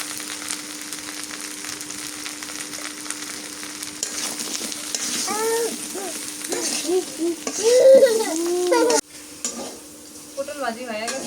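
Slices of pointed gourd (potol) fry in a pan in a village kitchen, giving a steady, close sizzling hiss while voices talk faintly in the background.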